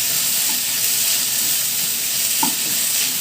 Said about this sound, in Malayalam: ഈ ചെറു തീ വെച്ചിട്ട് വേവിച്ചെടുക്കണം നന്നായി വഴറ്റി എടുക്കണം